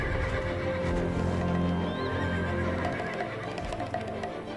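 Horses in the video game Black Desert neigh and whinny, frightened by wolves, over a dense, continuous game soundscape that stays loud and steady throughout, with no speech.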